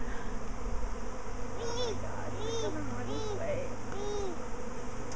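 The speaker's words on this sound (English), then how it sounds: "Bees." A large swarm of honeybees near their hive hums steadily under a constant buzzing drone, with people talking quietly over it.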